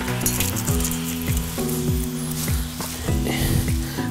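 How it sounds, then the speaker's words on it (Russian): Black chanterelle mushrooms and apples sizzle and crackle steadily in a hot pan, with occasional clinks of a utensil against the pan. "Яблоки мы пожарим вместе с лисичками."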